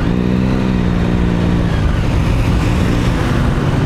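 Engines hum and rev as cars start moving through traffic, heard from a motorcycle in a hail storm. A low, droning note sinks partway through and gives way to a broad, loud rumble of road and engine noise.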